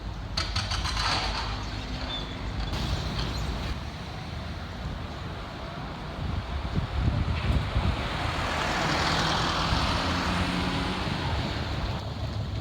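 Steady roar of passing road traffic of cars and trucks in Karlovasi, Samos, engines rumbling continuously with a swell of louder vehicle noise toward the end.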